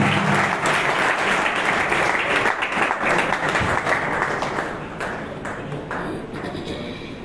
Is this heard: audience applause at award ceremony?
yes